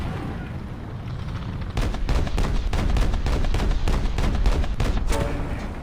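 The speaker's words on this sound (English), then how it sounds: "You can also shoot at aircraft with this machine gun, or, well," An M3A3 Bradley's autocannon fires in War Thunder Mobile, a fast string of sharp, heavy shots in close succession over steady battle noise, starting after a short lull and continuing to the end.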